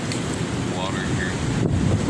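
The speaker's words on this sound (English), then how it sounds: "Looks like the wind is starting to push the water in more inland." Strong windstorm gusts buffet the microphone by the water as waves wash ashore, a loud continuous roaring rush with low rumble, and someone speaks faintly underneath.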